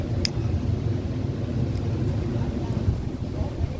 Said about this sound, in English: The wind's blowing me out